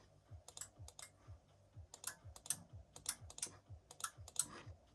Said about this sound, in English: We click on it, we hear the relay.